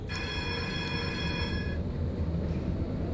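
A tram running on rails in Tram Simulator, with a bright ringing bell-like tone sounding for the first second and a half over a steady rumbling rail roll that carries on alone.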